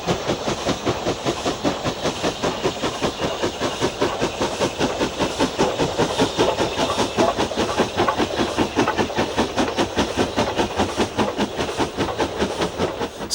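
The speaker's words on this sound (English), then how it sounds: "The 17th of July 1965, with the sun of high summer across the fells as this 8F tackles the climb." An 8F steam locomotive climbing a long 1 in 75 gradient on the fells in summer, with rapid, evenly spaced exhaust beats over a steady rushing hiss, heard from a moderate distance with no talk.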